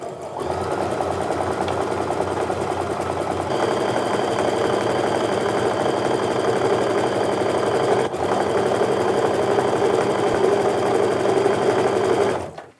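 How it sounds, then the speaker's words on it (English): Sewing machine stitching a quarter-inch quilt seam in Christmas fabric scraps, a steady fast mechanical whir and clatter running continuously for about twelve seconds, close and alone before stopping at the end. "I'm just going to sew that 1/4 inch seam all the way down."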